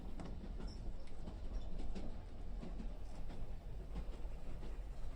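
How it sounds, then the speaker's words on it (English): Steady rumbling train noise on the Hope Valley Line with faint creaks and rattles, a continuous low rolling drone that stays close and even throughout. "The creaking and bobbing of the train keeping me awake."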